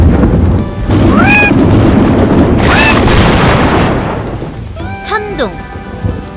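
A thunderstorm sound effect for a children's weather lesson: steady, loud rain hiss with a deep rolling thunder rumble that swells and then eases, alongside a few short chirping tones.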